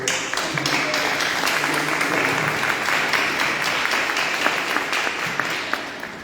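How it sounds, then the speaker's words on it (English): A room full of people at a city council debate in a community club gives a steady, dense round of applause, continuous clapping throughout with occasional louder claps and a faint murmur of voices beneath. "we want to give them a round of applause"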